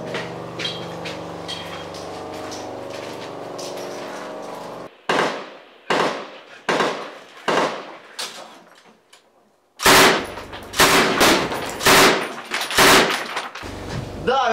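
Gunfire in combat sounds in rapid bursts and single loud cracks, with a sustained rumble at first, then spaced sharp shots, then a dense close volley of repeated blasts.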